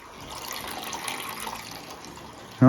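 Water pours steadily into a glass aquarium as it is being set up, a soft continuous splash and trickle at a gentle fill rate, fairly close, ending in a sudden louder knock or bump.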